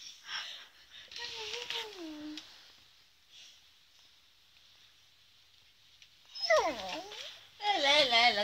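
An adult female beagle whimpers and whines in rising and falling, squealing bursts at close range, pausing between bouts and growing more insistent near the end while being teased.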